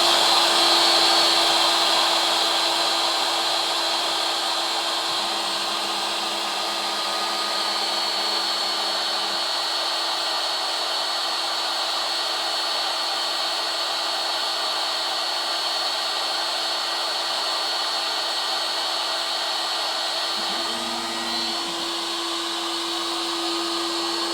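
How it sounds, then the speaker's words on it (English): A lathe spindle driven with an electronic leadscrew runs steadily, a constant motor whine and hum with a faint low tone that comes and goes partway through, and no one speaks. "I'm about to press the button and switch the spindle on"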